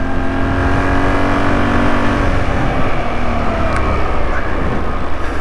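A Honda CX500 shaft-drive motorcycle engine pulls steadily while riding, a continuous, fairly loud droning hum with layered engine tones and wind rush, heard alone throughout.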